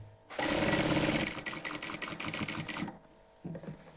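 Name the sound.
sewing machine stitching a nighty seam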